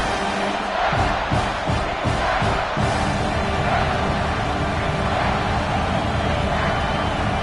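A college football stadium crowd at a Georgia game roars loudly and continuously, a dense wall of cheering and yelling with a few rhythmic surges early on, no single voice standing out.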